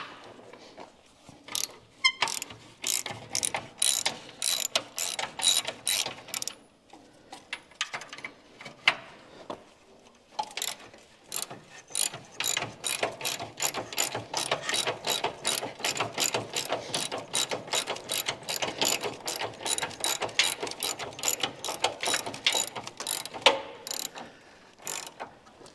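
A ratchet cranks on a 3/4 inch bolt at the front end of a Dodge Challenger under restoration, clicking in long, rapid, close runs with a brief pause partway through.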